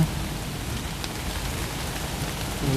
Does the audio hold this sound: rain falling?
yes